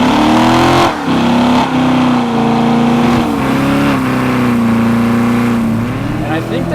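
2014 Chevrolet Corvette Stingray C7 V8 sports car, with a muscle-car twang, droning loudly at a steady mid pitch with several rises and dips in revs, close and prominent throughout.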